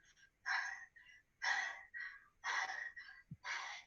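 A person imitates horror-movie heavy breathing on a stage show, four loud, breathy gasping bursts about one second apart, each separated by brief silence.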